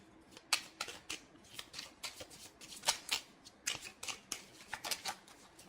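Tarot cards are handled and drawn from a deck in a steady stream of soft, close papery rustles, flicks and light snaps, quiet and with no voices.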